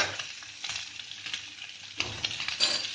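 Potato and arbi (taro root) curry with turmeric, chili powder and salt being stirred in a frying pan: a steady sizzle with repeated scraping stir strokes, louder bursts near the end, no talking.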